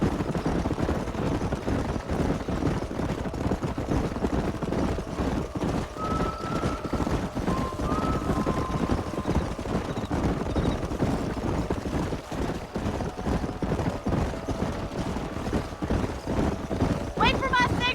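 Horses gallop in Red Dead Redemption with a steady drumming of hooves throughout and brief neighs and whinnies rising above the hoofbeats.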